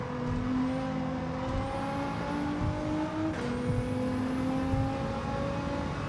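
Race car engines droning loud and close in a video game race, several tones holding and shifting pitch together as cars brake and accelerate through corners, with no talking.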